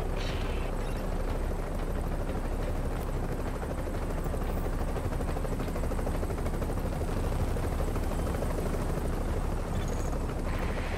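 An evac helicopter in Tom Clancy's The Division video game roars steadily overhead, a loud, dense rotor thrum holding without pause throughout.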